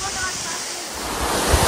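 Kegeti waterfall near Bishkek, Kyrgyzstan, fed by melting snow, heard from just in front as a loud, continuous broadband roar of rushing water filling the whole moment.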